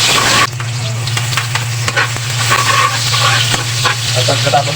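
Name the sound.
garlic and onion sautéing in a pan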